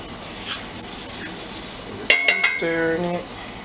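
A spoon stirs cornbread dressing in a pan with soft scraping, then three quick metallic clinks against the pan's rim ring out near and clear.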